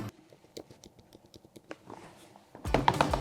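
Typing on a MacBook laptop keyboard produces quick, light clicking keystrokes in an uneven patter, close and fairly quiet, ending in a louder burst of rustling and handling noise.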